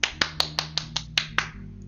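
Eight sharp hand claps in a steady, quick rhythm, close and crisp, with a quiet low hum underneath, recorded during a gaming podcast livestream.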